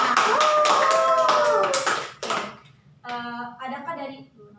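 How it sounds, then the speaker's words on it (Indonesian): A group of participants in a school group guidance session clap together in a dense, brisk burst mixed with raised voices for about two seconds, then the applause stops and talking continues. "Berikan tepuk tangan untuk kita semua."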